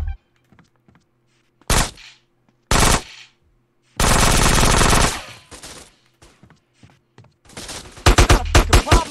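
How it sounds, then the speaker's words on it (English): Gunfire in the video game GTA San Andreas: isolated sharp shots, then a sustained rapid machine-gun burst, followed by a cluster of loud quick shots at the end, close and loud with quiet gaps between. "Now who's shooting?"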